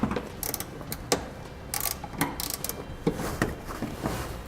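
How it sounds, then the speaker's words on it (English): A ratchet tightens a flange nut on an Air Lift LoadLifter air helper spring bracket of a 2016 GMC Sierra, giving repeated bursts of ratcheting clicks in uneven strokes, loud and close, with no talking. "and we'll tighten it down."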